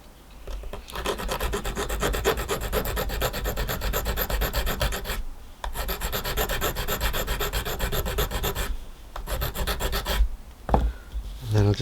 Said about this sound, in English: I'll just sand this down.